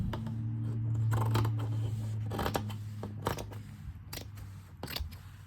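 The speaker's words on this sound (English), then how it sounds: "I'm just going to take my scissors and chop around it" Scissors chopping roughly through 6x6 patterned paper for a junk journal folio, a few crisp snips and rustles over a steady low hum, close by and moderately quiet.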